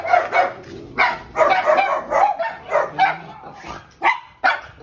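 American Bully dog barking close by in a rapid series of about ten loud, sharp barks, some with a whiny yelping edge, separated by brief pauses.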